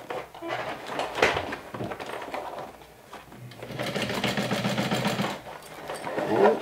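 A domestic sewing machine stitches a fabric bag in two bursts of rapid, even whirring with a short pause between them, close and moderately loud.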